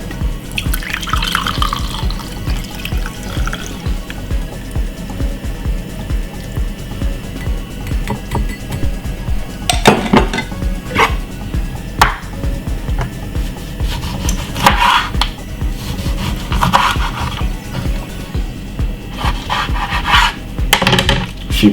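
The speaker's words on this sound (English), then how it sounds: "pour my liquid, strain it." Homemade juice of water and lemon is poured and strained, making a continuous close trickle with steady dripping, occasional scraping and clinking, and a few louder splashy bursts, with no voices.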